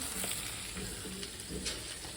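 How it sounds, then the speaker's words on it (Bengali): Pieces of Nile perch frying in a pan, a close, steady sizzle with faint stirring scrapes and spatter running throughout, with no talk. "সুন্দর করে ভাজা হচ্ছে টক মাছ ভাজা"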